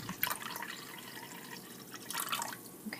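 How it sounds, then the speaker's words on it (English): Water is poured from one cup into a measuring cup, giving a soft, close trickle and splash that swells at the start and again near the end, with no talking. "So I'm just going to pour it into another cup"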